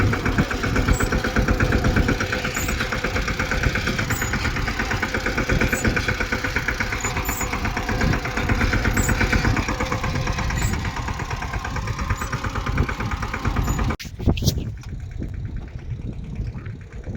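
A tractor engine running in a farm field during sowing, a steady low rumbling drone with a rhythmic knocking pulse, loud and close, continuing throughout before briefly cutting out near the end.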